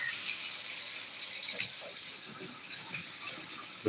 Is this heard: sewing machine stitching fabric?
no